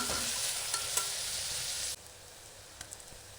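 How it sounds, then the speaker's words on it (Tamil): Onions frying with cinnamon, cloves, cardamom and bay leaf in a pan, a loud steady close sizzle that drops sharply to a quieter hiss halfway, with a few light stirring clicks. "அப்புறம் வெங்காயம் நல்லா வதங்கணும்"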